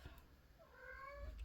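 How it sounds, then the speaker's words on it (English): A cat meows faintly in the distance, a single drawn-out cry over a low background hum. "Sorry if you hear my cat in the background"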